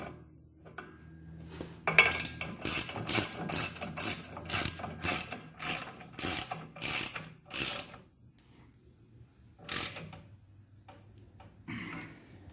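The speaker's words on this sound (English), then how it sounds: "And we'll just run that in and tighten her up." A hand ratchet clicks in a steady run of about ten quick bursts while tightening an anti-seized bolt on a 1948 Ferguson TE20 tractor's steering axle pin. It pauses, then gives one final click, all close and loud with no talking.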